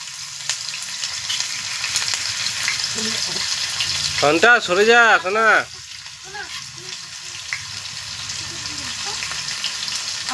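Green chillies frying in white oil for veg chowmein, a steady hiss of sizzling close by, with a brief burst of a person speaking in the middle before the frying continues alone.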